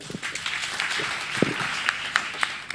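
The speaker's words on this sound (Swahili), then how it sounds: "Makofi." Applause at a finance and investment forum in Kenya: a diffuse patter of clapping that runs the whole time at moderate loudness, with a few sharper individual claps and a brief low thump near the middle.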